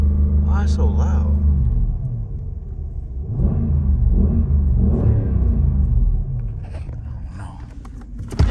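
A Mercedes-Benz CLS 550 AMG engine rumbles loudly up close, its low drone rising and dipping with throttle as someone talks over it in bursts.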